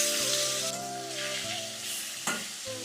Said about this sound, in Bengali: মাছটা ভালোভাবে ভাজা হয়ে গেছে, এবার তুলে নেব।